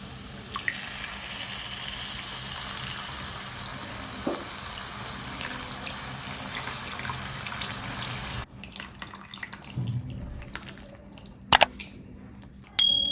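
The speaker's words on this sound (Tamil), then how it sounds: "இப்போ வந்து நம்ம ஊற வச்சிருந்த புளியை கரைச்சி இதில் ஊற்றிடலாம்" Dissolved tamarind water is poured into a pomfret fish curry in a pan. The liquid makes a steady splashing pour for several seconds, then gives way to quieter sizzling with a few soft clinks.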